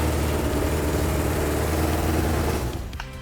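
A Suzuki Katana motorcycle engine, a barn find left unused for 31 years, runs with a loud, steady close-up roar before cutting out abruptly near the end.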